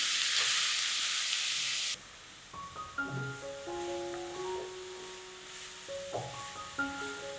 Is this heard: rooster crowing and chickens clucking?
no